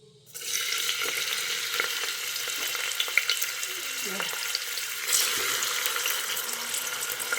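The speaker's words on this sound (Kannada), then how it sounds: "ಈರುಳ್ಳಿ ಸ್ವಲ್ಪ ಫ್ರೈ ಮಾಡ್ಕೊಳ್ಳೋಣ ಚೆನ್ನಾಗಿ" Onions sizzle loudly in hot oil for beetroot gravy after a quiet start, a constant crackling hiss with brief scraping stirs.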